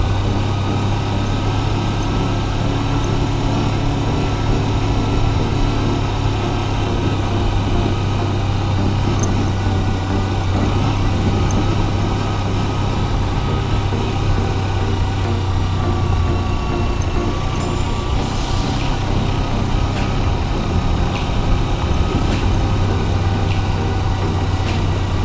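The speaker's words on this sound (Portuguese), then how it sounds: "Deixa eu botar uma segundinha aqui, segurar no freio motor." A car engine-braking in second gear on a country road gives a steady, loud low drone that holds evenly throughout, with no one talking.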